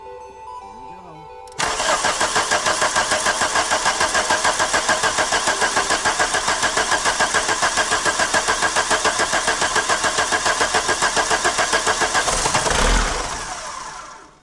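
An old diesel engine cranks and catches with a sudden loud start, then settles into a steady, rapid clattering idle that runs close and unbroken for several seconds before dropping off at the end.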